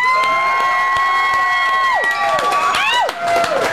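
A crowd cheers and whoops for a band, with loud continuous cheering and bright shouted voices rising and falling over a brief stretch.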